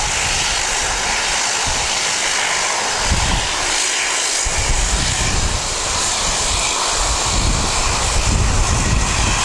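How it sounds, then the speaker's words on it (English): A Jetstar Airbus A320 jet departing Wellington airport, a loud sustained engine roar with broadband rush and wind buffeting on the microphone, steady throughout with no talk. "JQ264 off to Auckland. It's an A320."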